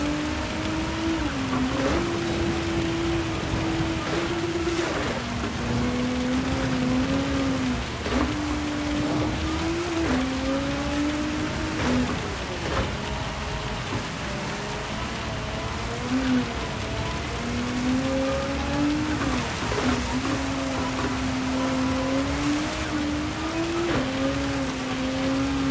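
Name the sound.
race car driving a lap in Gran Turismo 7 video game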